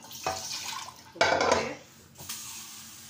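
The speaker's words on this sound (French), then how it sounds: "je veux mettre ce petit verre d'eau" Water poured from a small glass into a cooking pot on the stove, two short splashing pours of liquid striking the pot, close and moderately loud, with no talking.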